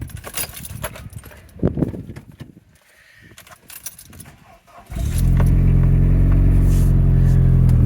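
A Z20LET engine car starts after a camshaft sensor change: keys jangle and clicks sound before the starter catches, and the engine then settles into a loud, steady idle close by.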